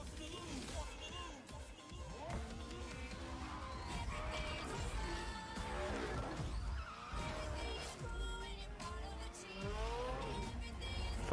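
Lego Ferrari and Mini Coupe cars race in a video game, with engines revving and tires squealing and skidding continuously, and quieter talk mixed underneath.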